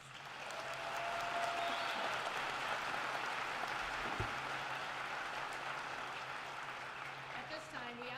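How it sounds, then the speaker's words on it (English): Sustained applause from a large crowd at a college commencement ceremony honoring graduates, swelling within a second and holding as a broad, even roar of clapping throughout, with faint murmurs of voices mixed in. "Let's give that a huge round of applause."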